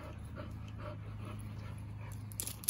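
A dog pants softly in quick, steady breaths close by, with faint low background hum.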